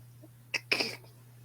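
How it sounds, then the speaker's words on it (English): A single close, loud human sneeze into a microphone, a short intake followed by a sharp burst, over a faint steady electrical hum. "Sometimes the sneeze comes faster than my ability to mute my mic"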